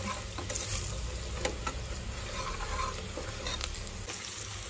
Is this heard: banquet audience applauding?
no